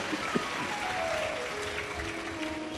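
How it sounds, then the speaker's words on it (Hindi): A crowd at a live Shiv Mahapuran katha gathering claps together in dense, sustained applause that fills the space evenly, with a faint steady tone running underneath. "एक बार जोरदार ताली बजाओ।"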